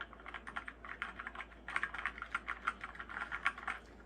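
Rapid keystrokes clatter on a Keychron K4 v2 mechanical keyboard with soft keys in irregular bursts, close and soft, with no voices.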